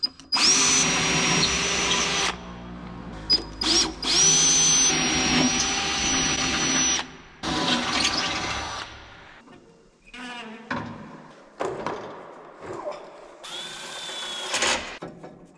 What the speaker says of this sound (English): We're getting ready to drill the holes for the mud flap.